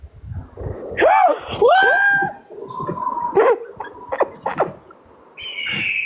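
A sharp, screeching falcon call rings out twice, then gives way to chirps and rustling, ending in a brief high whistle; a sound effect.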